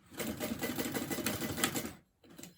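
A sewing machine top stitches along one side of a bag in a close, rapid, even run, then stops, and a short final burst of stitching follows.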